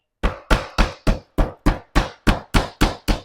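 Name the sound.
hammering nails down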